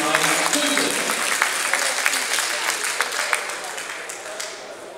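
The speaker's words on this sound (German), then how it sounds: "euer Applaus für Michel und für die Wirtschaft für einen wirklich tollen Kampf" Crowd applause after a boxing bout, dense steady clapping from a sizeable audience that holds at an even level throughout, heard at moderate distance in a hall.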